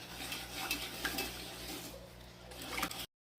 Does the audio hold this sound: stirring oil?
yes